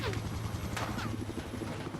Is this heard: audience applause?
no